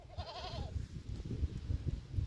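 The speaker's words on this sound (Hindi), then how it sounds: "बकरियों।" Goats bleat with a wavering, quavering call early on, then lower grunting and farmyard noises continue in a steady, close, moderately loud stretch.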